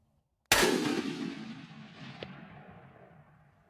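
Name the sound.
Browning rifle gunshot at deer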